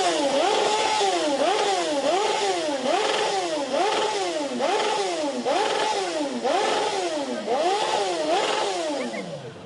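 A tuned motorcycle at a 2012 tuning show revs its engine hard in a steady cycle, with about a dozen rising and falling swoops. The sound is loud and close, with no talk over it.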